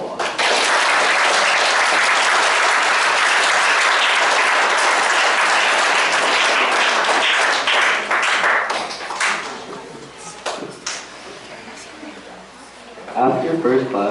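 A troop audience claps for scouts at a Boy Scout Court of Honor, a sustained wash of applause that tapers into scattered claps before a voice returns near the end.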